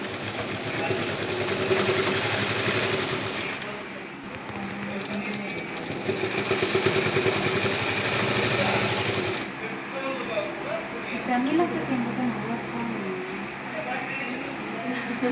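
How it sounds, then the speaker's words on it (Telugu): An electric sewing machine stitches a dress belt with a loud, steady whirring run, pausing briefly and then running again before stopping into quieter background sounds. "ఇలా కంప్లీట్గా బెల్ట్ మనము స్టిచ్చింగ్ చేసుకోవాలి."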